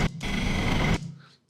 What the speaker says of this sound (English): And then we've got this little riser right here.